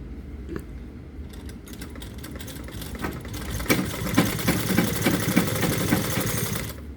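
A sewing machine runs straight stitching on a salwar, a fast even mechanical whir with rapid needle ticks that grows louder and steadier partway through, without speech.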